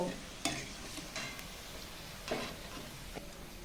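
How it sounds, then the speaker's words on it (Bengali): Palm fruit fritters (taler bora) fry in hot oil for Janmashtami. A steady soft sizzle runs throughout, broken by a few sharp stirring scrapes and clinks, close by with no talk. "তালের বড়া খুব ভালো করে ভেজে নিয়েছি তুলে নেব"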